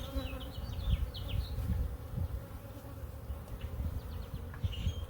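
Honey bees buzzing around a hive at its original location, a dense steady hum of many foragers close by with individual bees whining past, no voices.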